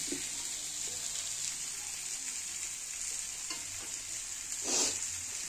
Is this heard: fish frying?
yes